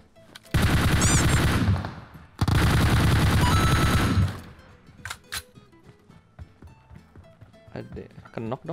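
Two long, loud bursts of rapid automatic gunfire in PUBG ring out close by, each lasting about two seconds, followed by scattered single shots and clatter while a player talks.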